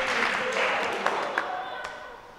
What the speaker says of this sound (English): That was an applause, Blake.